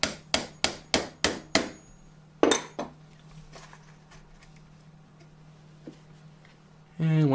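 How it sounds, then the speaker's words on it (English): A hammer drives nails into a simple wooden birdhouse, six sharp, evenly spaced strikes in quick succession, then a couple more blows and a few faint taps, with a constant low hum underneath. "drill a hole, nail it, and repeat the process"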